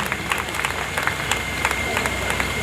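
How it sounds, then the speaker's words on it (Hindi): Audience applause for Holi festival singers and dancers at a senior citizen council event in Sarita Vihar, a crowd clapping steadily with sharp individual claps standing out over light room murmur. "सबके लिए एक बार जोरदार तालियां बजा दो प्लीज।"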